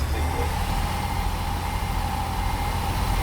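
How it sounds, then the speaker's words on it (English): A truck engine idles in a steady low rumble with a faint mid-range hum riding on top. It is close and continuous, with no revving and no voices. "I have to keep turning my engine on."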